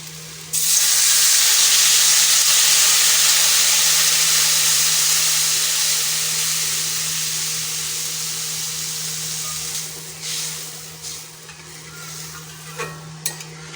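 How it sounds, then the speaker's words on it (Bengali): Water poured into sizzling masala in a pan for a bhola fish dish, producing a sudden loud hissing burst of steam that gradually settles into a quieter bubbling simmer, with a few clinks near the end and no voices. "এখন এর মধ্যে জল দিয়ে দেব"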